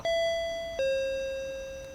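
A doorbell in the horror game Akai Onna gives two clear ding-dong chimes about 0.8 seconds apart, each a clean tone that rings on and slowly fades, with no talk over it.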